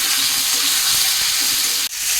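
Fried potatoes and raw tomatoes sizzling in a pan, with a loud, dense, continuous hiss of frying and a brief dip near the end.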